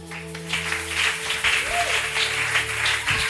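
A church congregation applauding together in a worship service, a steady broad clapping texture that holds at even loudness throughout with a sustained tone and some faint voices underneath.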